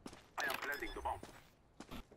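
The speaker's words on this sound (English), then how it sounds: "I am planting the bomb." A bomb is planted in the video game CS GO: a short burst of mechanical, keypad-like clicking and faint beeps, with a player's voice talking over the top.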